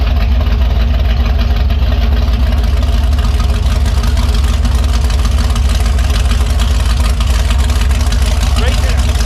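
A 396 big block Chevy V8 in a 1972 Chevelle runs steadily just after start-up, a loud, continuous low rumble with even idle throughout, close by and with no other sounds over it.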